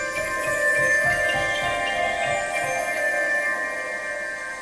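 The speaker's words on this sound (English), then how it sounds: "You also have a distortion section sort of here, so you can have a tube drive hard clip." Piano notes run through a tube-drive hard-clip distortion, giving a gritty, sustained, buzzy tone with repeated chords.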